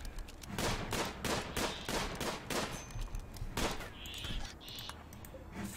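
Rapid volleys of gunfire from a RimWorld colony raid crackle in dense bursts, with sharp overlapping shots over about four seconds before tapering into scattered reports and faint chirps.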